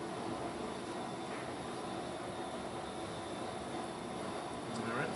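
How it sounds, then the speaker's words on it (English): Steady broadband hiss and rush of CO2 gas flowing into a Fermentasaurus fermenter as pressure rises toward 10 psi, continuous and fairly loud throughout with no pauses. "You can hear it accepting the gas right now."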